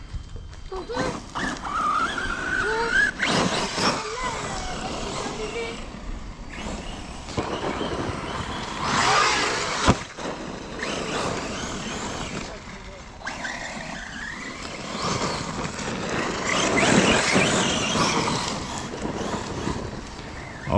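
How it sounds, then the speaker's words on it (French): A Traxxas UDR RC truck running on a 4S battery, its electric motor whining as it revs up and down in bursts across outdoor terrain, while people talk nearby over the buzzing motor. "on a Dorian qui vient de récupérer un super UDR, là je crois qu'il tourne en 4S"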